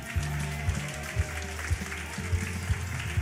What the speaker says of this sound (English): clap your hands for the people who are joining us